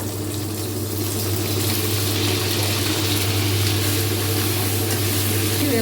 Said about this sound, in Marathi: आता पनीर पहिला आपण भाजून घेऊया.